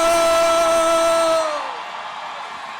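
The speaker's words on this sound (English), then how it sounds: "Boston, give a round warm of applause for the Dropkick Murphys" A large outdoor crowd at a Boston City Hall Plaza protest rally whoops, yells and cheers loudly for the Dropkick Murphys, a sustained roar that drops off sharply partway through to a quieter murmur.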